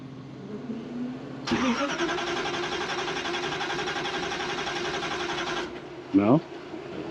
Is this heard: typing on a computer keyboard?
no